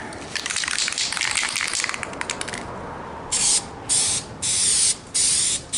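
A spray can hisses in several short, loud bursts over a car grill on a 1972 Plymouth Satellite, after a stretch of rubbing and rattling handling noises.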